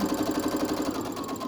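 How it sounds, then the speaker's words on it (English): Sewing machine running a straight stitch across a homemade fabric medical mask, a steady close mechanical whir with rapid needle chatter throughout, no voices. "And then we're just going to stitch all the way across."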